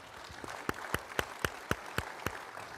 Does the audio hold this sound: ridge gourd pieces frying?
no